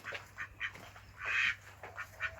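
Ducks on a farm quack in short repeated bursts, one louder drawn-out call in the middle, moderately near and fairly faint with no talk.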